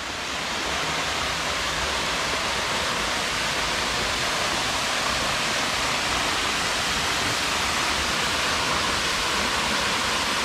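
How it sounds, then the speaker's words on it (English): A continuous, steady roar of a waterfall beside a trail on the Sipsey Fork, broad and unbroken, with no voices. "The trail here passes right in front of the waterfall."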